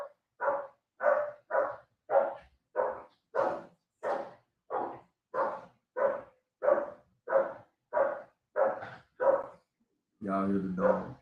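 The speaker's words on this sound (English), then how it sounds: "Y'all hear the dog?" A dog barks about fifteen times in a steady, evenly spaced series of sharp barks at moderate distance, followed by a longer, more tonal bark-whine at the end.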